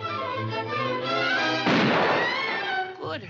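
A cartoon hunter fires a gun at a rabbit, a single loud, abrupt bang that cuts into tonal music and speech, then a long noisy decay before the voices return.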